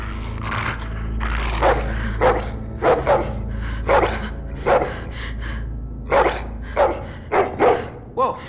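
A dog barks repeatedly in The Walking Dead: The Final Season video game, a run of loud, sharp barks in uneven bursts over a low steady hum of game ambience.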